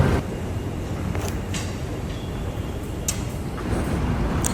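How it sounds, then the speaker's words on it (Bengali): Metro train pulling out of a station in Qatar, a steady low rumble and hum of the departing train with faint high whines, heard alone without talk. "মেট্রোটা নেমেছি, সেই মেট্রোটা এবার চলে যাচ্ছে তার ডেস্টিনেশনে।"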